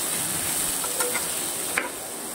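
Cumin, cardamom, cinnamon, garlic, chilli and onion sizzle in hot oil while being stirred, a steady close hiss broken by a couple of faint scraping clicks.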